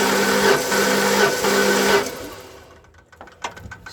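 A six-cylinder engine in a Ford Flareside truck cranks on the starter, a steady loud whirring churn lasting about two seconds before it cuts off, followed by faint clicks and small knocks.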